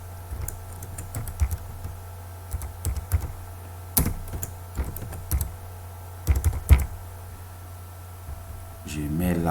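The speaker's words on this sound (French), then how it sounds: "Je tape comme ceci." Computer keyboard typing in irregular bursts of close, crisp key clicks, with a steady low hum beneath and brief pauses between keystroke flurries.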